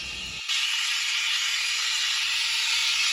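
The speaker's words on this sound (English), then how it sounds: "Tilt your pitcher where only the tip of the steaming wand is submerged in the milk." Steam wand on a 15-bar Noon East espresso machine frothing milk in a pitcher with the tip just submerged: a steady, loud, continuous hiss that starts abruptly after a brief quiet moment and holds evenly throughout, with no talking.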